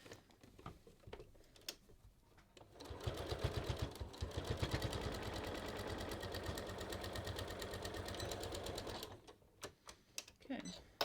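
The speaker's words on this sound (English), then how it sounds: "I'm going to stitch across, just a few stitches, and then I'm going to stitch back down." A sewing machine runs a short row of stitches across fabric and back down for pocket topstitching, a fast rhythmic clatter of about six seconds between quieter handling noises.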